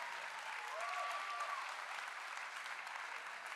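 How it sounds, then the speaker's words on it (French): Sustained audience applause at a Kozalor competition, a dense even wash of many hands clapping at moderate level, heard from a distance with a faint tonal whine briefly above it. "l'applaudissement pour lui"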